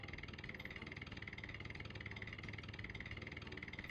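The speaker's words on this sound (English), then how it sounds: "Here's this oddball driving a tractor." Steady, continuous engine drone of a tractor driven across a yard in the video game 102 Dalmatians: Puppies to the Rescue, a low rhythmic chug running evenly throughout with no talk.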